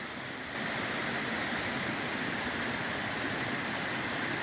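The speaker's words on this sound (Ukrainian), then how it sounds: "У ті дві маленькі ручейка перетворились у такий водоспад." Mountain waterfall on the Hoverla trail in the Carpathians, a constant close rushing of falling water, loud and unbroken with no talk.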